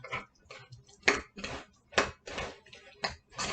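A spoon knocks and scrapes around a bowl while herbs are stirred in for a pizza topping, making a series of sharp clinks and taps at irregular intervals, close by and fairly quiet.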